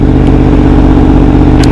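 A V4 motorcycle engine runs loud and close, holding a steady, throbbing mid-rev note with a rhythmic pulse throughout the short burst.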